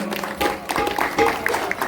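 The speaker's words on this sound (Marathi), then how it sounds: "त्यांच्यासाठी एकदा जोरदार टाळ्या वाजवायच्या सर्वांनी" At a Shiv Jayanti village festival, an audience gives a burst of applause for a shahir dholki player, in dense, loud, continuous clapping from a crowd nearby, with some voices mixed in.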